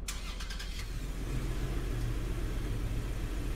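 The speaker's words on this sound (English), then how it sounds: "So the reason this is number 3 is because of the startup sound. Sounds like the exact Toyota Tacoma." A 2011 Toyota Tacoma pickup truck engine starts up: a short burst of cranking, then a steady, deep idle rumble close by, with no talking.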